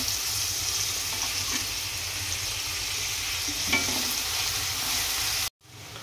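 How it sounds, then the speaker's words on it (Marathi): Chopped onion fries in a pan until golden, giving a steady, close hiss of sizzling with faint stirring, then a brief silence near the end before the sizzle returns. "आता कांदा व्यवस्थित परतून घेऊया गोल्डन सोनेरी कलर येईपर्यंत."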